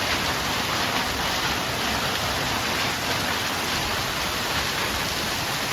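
A geyser erupts, blasting water nearly 70 meters into the air: a steady roaring rush of water, loud and continuous like a heavy downpour or cascade, with no talk over it.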